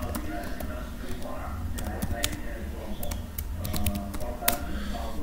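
A command is typed on a computer keyboard in Windows, a run of quick, light key clicks in irregular bursts, close and moderately quiet over a low room hum.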